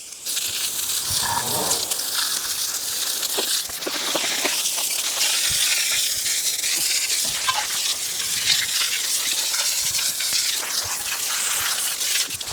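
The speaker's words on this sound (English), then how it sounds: "This is just me using a high pressure nozzle on it." A high-pressure water nozzle sprays a Honda CB750 motorcycle engine during degreasing, giving a steady loud hiss and splatter with brief shifts as the spray moves across the metal.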